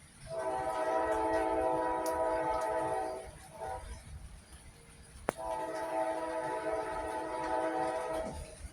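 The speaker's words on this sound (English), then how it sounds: "There's a train down the road, not too far from me." A train passes down the road not far off, its horn sounding in two long sustained chords with a short gap between, loud over a steady low rumble, recorded outdoors near a garage during a thunderstorm.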